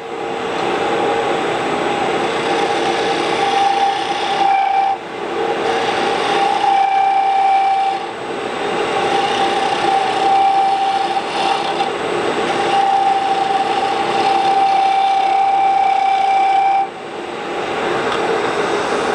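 A wood lathe turns a ripple-grain bell ornament at 1800 RPM, giving a loud, continuous whirring drone with a steady tonal hum and brief dips as the tool lifts off the wood.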